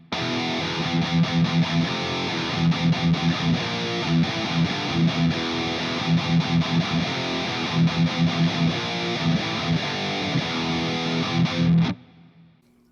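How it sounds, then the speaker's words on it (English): A heavily distorted electric guitar plays a chunky, palm-muted metal riff with rhythmic chugging bursts. It is loud and continuous, then cuts off abruptly near the end, with no voice over it. "So now I want to show you palm muting."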